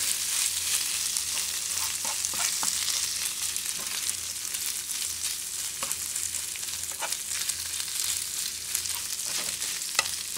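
Spicy kimchi and bologna fried rice sizzles and crackles steadily in a hot pan, with occasional scraping stirs, close up and continuous without voices.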